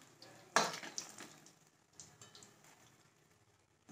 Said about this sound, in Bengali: লো টু মিডিয়াম হিটে ভাজতে হবে এটা